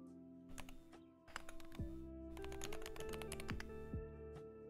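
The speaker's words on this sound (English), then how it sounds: "This is the Wooting keyboard." Rapid, dense clacking of keys on a Wooting computer keyboard, fast continuous typing in close, clear bursts with brief pauses, over a low sustained background hum.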